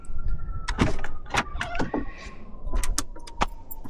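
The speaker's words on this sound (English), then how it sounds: "And then the window goes up." A power window on a Lamborghini Urus hums upward in a steady motor whine, with several sharp clicks and clunks close by over low rumble.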